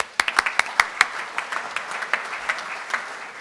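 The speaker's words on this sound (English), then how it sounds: "Let's give them all a round of applause." Audience at a Rotary club meeting applauding, a steady round of clapping with sharp individual claps standing out, fairly close and loud, fading slightly toward the end with no talking over it.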